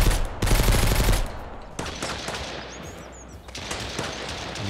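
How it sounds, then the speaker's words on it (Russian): Gunfire in the survival game Mist Survival: loud bursts of rapid automatic shots, a dense volley at the start, then scattered single and clustered shots continuing at close range throughout. "Много вас там стреляет."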